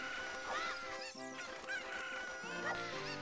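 Cuckoo chickens in the Legend of Zelda: Ocarina of Time video game cluck and crow in dense, overlapping squawks, with looping game music continuing underneath throughout.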